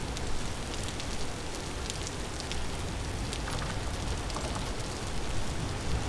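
Steady rain in the survival game Vintage Story, a dense continuous hiss of drops pattering on surfaces at an even loudness throughout, with no voices.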